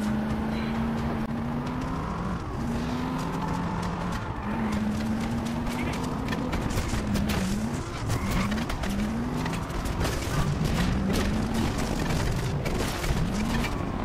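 Limousine driving and skidding in the video game Just Cause 2: repeated engine whines rising and falling with tire screeches and skids, loud and continuous, with people talking over it.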